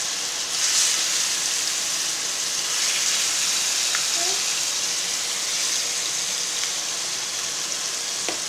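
Fish pieces frying in hot oil in a Tamil home kitchen, a steady broadband sizzle holding at an even level throughout, close by and fairly loud, with a couple of faint clinks partway through.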